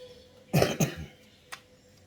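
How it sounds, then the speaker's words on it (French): A single person coughs twice in quick succession, close and fairly loud, then gives a fainter short throat-clearing cough about a second later in an otherwise quiet room. "Bon, je commence à tousser,"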